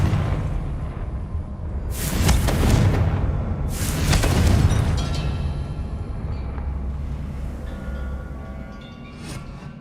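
A Confringo blasting spell in Hogwarts Legacy bursts with two loud, close explosive booms about two seconds apart, each followed by a rumbling decay that fades into a low ambient hum.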